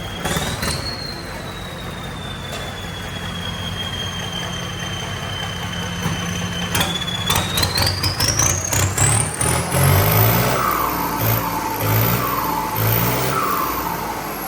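A turbocharged three-cylinder Ford tractor engine runs steadily at close range, a high whine rising as it revs up, with uneven chugging pulses.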